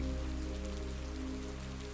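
Steady rain patters down around a woodland cabin among pines and cypresses, an even continuous hiss with no variation.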